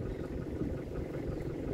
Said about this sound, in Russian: Главное, что мотор заведен.